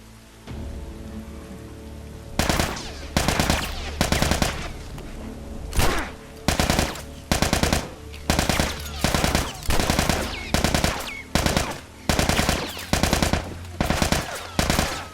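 Rapid bursts of gunfire in The Last of Us Remastered crack out in a steady series of short volleys over a low background hum, sharp and fairly loud.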